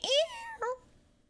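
A pet cat gives two loud, drawn-out meows close to the microphone, the second shorter than the first, with a brief pause between them.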